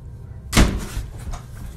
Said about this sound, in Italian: Secondo voi invece, che cosa ha fatto sbattere la porta?